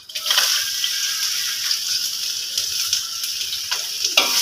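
Onions frying and sizzling loudly in a pan for Malaysian-style mee goreng, with steady hissing and scraping stir strokes throughout, close up.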